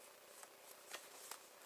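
Tarot cards being handled and shuffled for a Virgo reading: a few soft, brief riffling bursts over quiet background hiss, with no speech.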